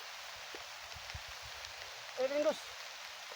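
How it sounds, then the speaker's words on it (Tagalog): Rain falls as a steady, soft hiss with faint scattered patters, while a person makes a short vocal sound partway through. "Silakas ang ulan dito."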